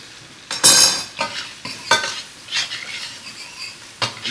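Salmon sears in a hot pan with a steady sizzle, broken by several sharp scrapes and clinks of a utensil stirring and turning it against the metal, with no talk.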